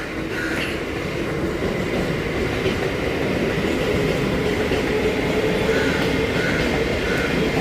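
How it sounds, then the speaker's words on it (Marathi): A Mumbai local train pulls into Khar Road railway station, its steady loud rumble and wheel clatter filling the scene with faint squeals of wheels on the rails. "हे बघा आपली गाडी अराईव्ह करताना खार रोड रेल्वे स्टेशनला."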